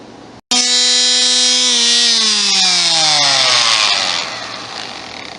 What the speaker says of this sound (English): I'm going to go back to trying to smooth out these few little areas before I go into a finer sand